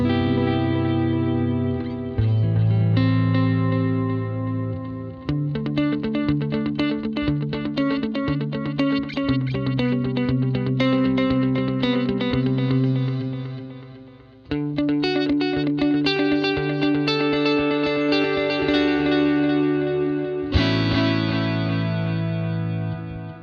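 A synth line runs through the Valhalla Delay plugin, its repeats wobbling with audible modulation and chorus-like warble, shifting through several sustained chord sections with brief dips between them.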